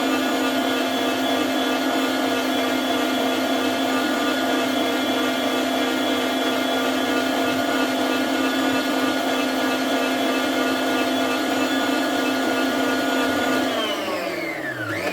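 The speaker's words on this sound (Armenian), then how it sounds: "կմիացնեմ, որ հարի միքսերը" An electric mixer whips butter and cooked cream steadily at high speed, a loud continuous motor whine that starts to wind down at the end.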